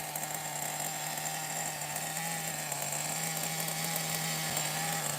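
A Megatech Nitro Razor RC car from the early 2000s, with its small nitro engine idling in a high, thin, constant buzz that holds steady throughout.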